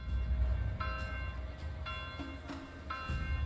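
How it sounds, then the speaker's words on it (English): A church bell in the medieval village game Manor Lords rings three times at even intervals, each strike clear and ringing over a low rumbling ambient background. "The church bell be ringing."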